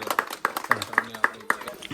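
Several people clap at a playground inauguration in Malegaon, a group of rhythmic, evenly spaced claps at moderate loudness, with voices talking over them.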